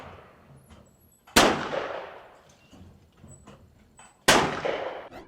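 Two loud, sharp shotgun blasts ring out a few seconds apart at a clay target shoot in the Pocono Mountains of Pennsylvania, each followed by a decaying echo, with quiet outdoor background between.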